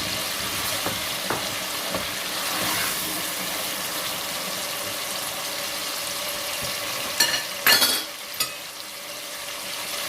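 Ginger garlic paste sizzling in hot oil for a green vegetable pulao, a steady broadband hiss throughout with a few louder splattering crackles near the end.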